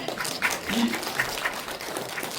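Faint, distant audience applause at a political briefing session, a soft, even patter of many hands with some voices murmuring underneath.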